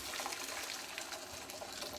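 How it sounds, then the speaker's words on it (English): Boiling water pours steadily into a container while making chicken katsu curry, a continuous close splashing trickle with no talk. "Just gonna put some boiling water into here"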